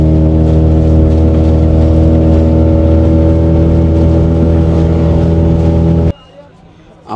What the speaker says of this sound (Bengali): স্পিড বোট এখন চলতেছে হা হা করে।